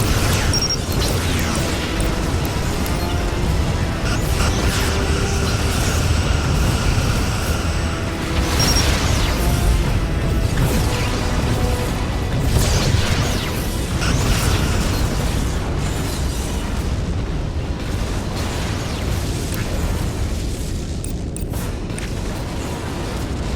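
Continuous barrage of space-battle explosions and booming impacts from the Star Trek: Legacy game, loud and dense throughout with crashing bursts layered over rumbling weapon fire.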